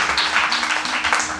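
A church congregation applauds to acclaim the Lord, steady, close and loud clapping throughout.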